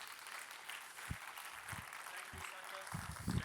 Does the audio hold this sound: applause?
yes